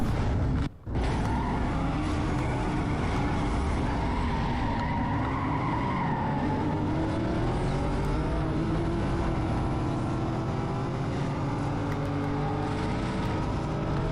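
Steady droning race car engines in the Need for Speed Most Wanted 2005 video game during a lap knockout race, a continuous loud whine with shifting pitch and tire noise, no talk.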